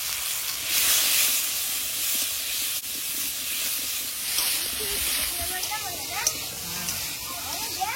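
Potatoes frying in oil in a kadai with nigella seeds, slit green chillies, turmeric and salt give a steady broadband hiss and sizzle, with faint stirring and some background voice under it.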